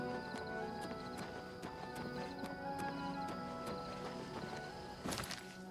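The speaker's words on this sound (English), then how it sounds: "She's following me on the horse, okay." Horse hooves clip-clopping in the Oblivion Remaster video game, a steady rhythm of hoofbeats under layered game music and ambience, with a louder burst of sound near the end.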